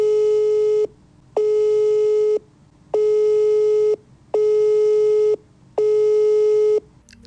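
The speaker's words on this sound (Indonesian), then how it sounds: "nada dering WA call gue di volume maksimal." A WhatsApp call ringtone plays at maximum volume on an iPhone 15 Pro Max speaker. Five loud, identical tonal bursts repeat in an even rhythm, separated by short silent gaps, with no one talking.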